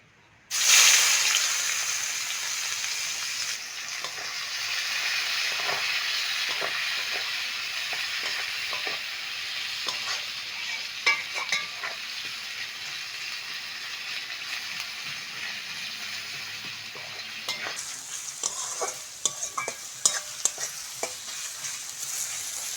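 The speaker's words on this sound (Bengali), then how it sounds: "মাছের মাথা দুটো ভেজে নেব ওই তেলের মধ্যে পেঁয়াজ কুচি দিয়ে দেবো" Chopped onion sizzles and fries steadily in hot oil alongside fish heads, with occasional stirring clinks and scrapes, close and continuous throughout.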